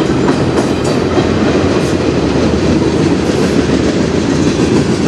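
A CN freight train hauled by four locomotives rolls steadily past close by, a continuous loud rumble of wheels and cars with faint clickety-clack, no voices.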